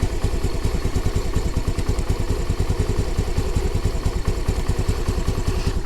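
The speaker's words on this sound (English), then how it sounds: "it's still idling very, very low." A 2022 Honda Navi motorcycle engine idles low and steady after a cold start, its fast, even putter close and continuous with a light mechanical clatter throughout.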